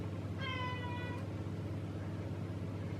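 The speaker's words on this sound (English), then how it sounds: "Please excuse my cat." A pet cat gives a single short meow indoors, clear but fairly quiet over a steady low background hum.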